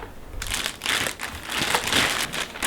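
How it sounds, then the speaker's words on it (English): Cardboard packaging crinkles and crumples as it is pulled away from a newly unboxed Bobmail egg incubator, a steady run of rustling and crushing handling sounds with no talk. "Let's get rid of the cardboard."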